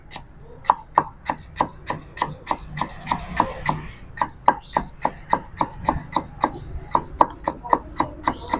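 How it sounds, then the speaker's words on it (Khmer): A knife slices lemongrass stalks thinly on a cutting board for a spicy stir-fry of red ant eggs and free-range chicken, giving a steady run of close, crisp chops at an even rhythm throughout. "ខ្ញុំចាប់ផ្ដើមមកហាន់គល់លក្រីបងប្អូន គល់លក្រីរបស់យើងគឺយើងហាន់ជាចំណិតស្ដើងអញ្ចឹង"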